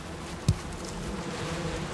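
Bees in Valheim give off a steady low buzzing hum close by, continuous and fairly faint, with one soft thump near the start and no talking.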